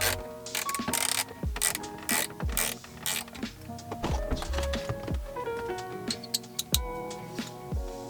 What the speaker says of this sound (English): now we have to remove 3 screws, 2 here and 1 here below, in order to remove this cover also